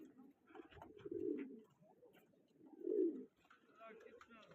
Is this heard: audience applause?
no